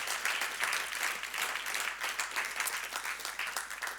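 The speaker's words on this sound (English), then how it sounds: "Thank you for the applause, that helped me." Audience applause at a foundation talk, a moderately loud, steady patter of many hands clapping throughout, heard at a slight distance with no voices over it.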